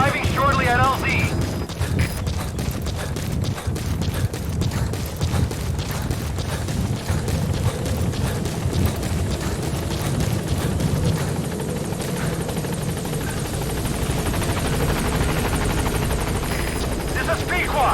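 The Pequod helicopter coming in to a landing zone in Metal Gear Solid V: The Phantom Pain, with a continuous rotor thump and turbine whine held close and loud beneath a radio voice speaking over it.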